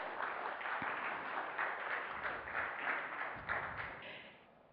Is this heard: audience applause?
yes